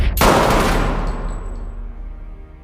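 A single loud gunshot in a film cracks out, followed by a long rumbling echo and ringing that slowly fades away.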